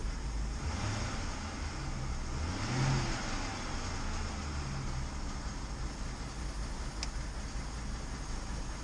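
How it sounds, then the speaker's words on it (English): A 2007 BMW 750Li E65 idles with a fluttering running note, a steady low rumble that is faint and even throughout, with no voices over it. "This car is running, it's fluttering."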